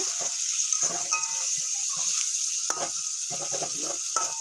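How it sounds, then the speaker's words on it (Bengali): A whole tomato fries in a pan for a spicy dried-fish chutney, making a steady bright sizzle with intermittent soft knocks and scrapes of stirring. No voice is heard. "এখন টমেটোটাকে ভাজা করে নেব"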